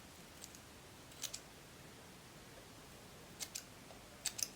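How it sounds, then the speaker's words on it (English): Scissors snipping through sheer pantyhose for a bald cap wig install, a few crisp, light clicks in small pairs, close but faint against a quiet background. "take your scissors, and I'm going to cut this through"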